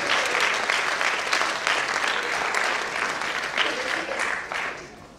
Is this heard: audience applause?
yes